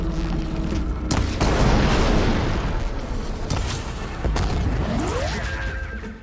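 A mine launcher's explosion in Horizon Forbidden West lands as a deep booming blast with a long rumbling roar, followed by further heavy thuds and a rising whine, loud and close with no talk.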